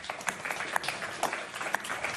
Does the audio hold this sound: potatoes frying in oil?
no